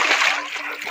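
River water splashing and sloshing at a riverside camp in Northeast India, a close, steady broadband wash that stays loud and continuous throughout.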